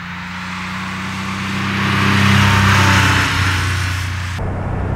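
A 1989 Porsche 911 Carrera 3.2 WTL accelerates nearby, its engine note rising and swelling to a loud, smooth roar, then easing back. The sound cuts off abruptly near the end.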